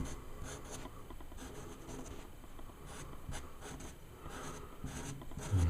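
A felt marker drags across a wooden panel while a monster is sketched, making soft scratchy strokes in short bursts and longer rubbing passes, close and fairly quiet with no one speaking.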